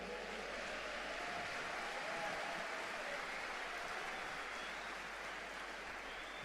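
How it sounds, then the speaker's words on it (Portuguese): A congregation at a church congress applauding, a continuous wash of many hands clapping heard from a distance, steady and even for the whole stretch with a low hum beneath and no speech. "dê um forte aplauso ao Senhor"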